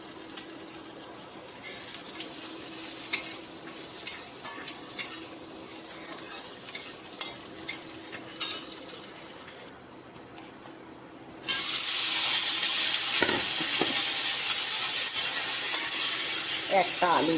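Crushed garlic and black cumin frying in oil, first with muffled stirring and clatter near the pan, then a loud, steady hiss of sizzling that fills the last several seconds.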